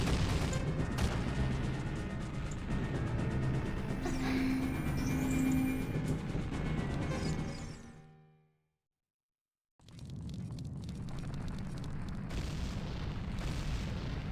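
An explosion in Zelda Ocarina of Time: a long, loud, dense rumbling blast with crackling debris that fades into a sudden silence, followed by renewed heavy rumbling.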